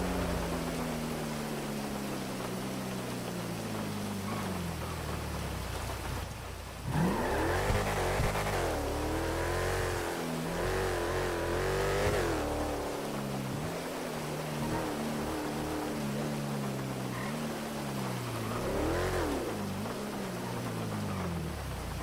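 A truck engine in GTA V played on a FiveM roleplay server revs hard, its pitch climbing and falling in waves over a constant close engine drone. No one speaks.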